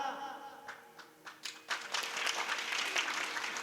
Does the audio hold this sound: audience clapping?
yes